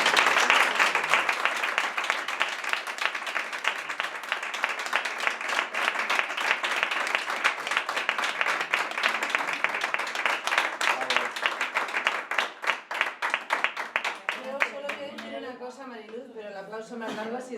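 Sustained audience applause at a presentation on positive conflict management and mediation in educational settings, a dense wash of clapping from a large crowd that thins out near the end, where voices begin talking over the fading claps.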